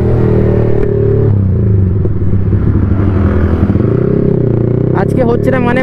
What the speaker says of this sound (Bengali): বাইক ওর ফুল হিট হয়ে গেছে গাইস, যার কারণে উইলি উঠছে না দেখো